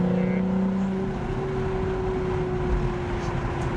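A Lotus Evora sports car engine drones steadily with a sustained tonal hum, heard at moderate distance under a voice talking over it.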